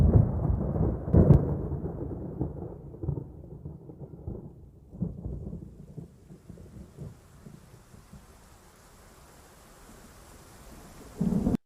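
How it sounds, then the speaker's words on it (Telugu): Opening of the film Athadu: a heavy thunder crack and rumble up front, then rolling thunder fading over steady rain, with a fresh burst of rain noise at the very end. "మూవీ ఫస్ట్ ఫ్రేమ్ రావటం కంటే ముందే ఉరుములు అండ్ వర్షం సౌండ్స్ స్టార్ట్ అవుతాయి"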